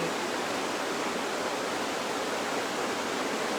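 River water rushes steadily, a broad, continuous hiss of flowing current that stays even and fairly close with no pauses and no voices.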